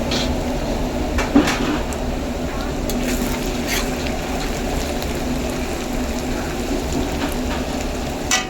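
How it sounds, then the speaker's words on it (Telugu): Onions frying in a pan for a chicken curry give a continuous close sizzle with light stirring scrapes and a few soft clicks, steady throughout. "ఆనియన్స్ని అయితే ఈ విధంగా ఫ్రై చేస్తూ ఉండాలి."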